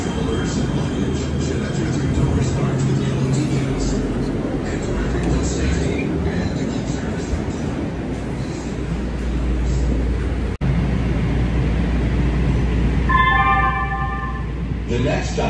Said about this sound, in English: This is as far as this train goes.